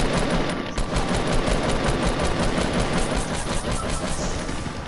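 Rapid automatic gunfire in a Fortnite match at the starting area, a dense continuous stream of shots that stays loud and close for the whole stretch, with no talk.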